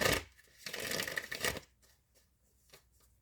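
Tarot cards are shuffled by hand in a brief quiet burst of riffling and flicking, followed by a few soft taps and near silence.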